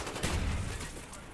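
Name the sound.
gunfire during a gunfight in Call of Duty: Black Ops video game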